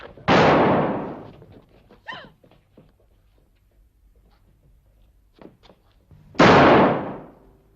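Two sharp, loud gunshots several seconds apart, each a sudden blast with a short decay, separated by faint scattered knocks and near silence.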